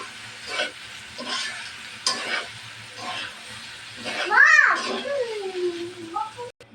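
Boiled noodles are tossed with noodle spice mix in a frying pan, a scraping, light sizzling stir in short strokes, with someone talking over it and a brief high chirpy sound near the end.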